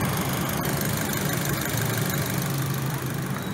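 A 2020 Nissan Livina 1.5L engine idles nearby with a steady, continuous mechanical hum and a faint knocking texture, with no talk over it.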